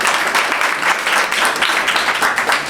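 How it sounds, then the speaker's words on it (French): Parents, friends and guests applaud kindergarten graduates at a graduation ceremony, close and loud sustained clapping with a steady, rippling texture. "Applaudissez s'il vous plaît."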